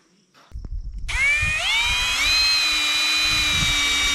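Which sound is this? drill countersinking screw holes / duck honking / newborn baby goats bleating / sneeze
drill countersinking screw holes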